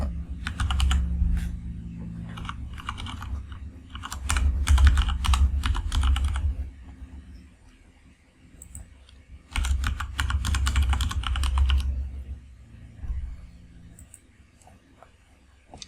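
Rapid bursts of keystrokes on a computer keyboard as an email and password are entered, clattering in two main runs with a short pause between and a few scattered taps at the end, close and fairly loud.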